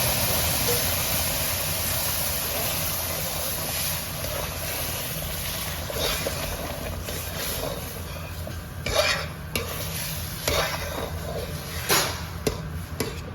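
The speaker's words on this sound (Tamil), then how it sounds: "நல்லா கட்டி இல்லாமல் கிளறி விடுங்க" Steady scraping and stirring of semolina in a hot pan with a faint sizzle, with a few sharper scrapes and clinks toward the end.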